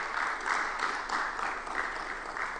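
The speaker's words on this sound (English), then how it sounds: "Please, one more time, let's give him a round of applause." Audience applause for a speaker at an energy technology week conference, a steady wash of many hands clapping that swells and eases over a couple of seconds with no voices on top.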